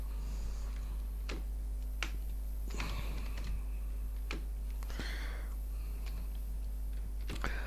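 Scattered keystrokes on a computer keyboard while entering values into an Excel spreadsheet, isolated sharp clicks and short runs of typing over a constant low electrical hum, with no talking.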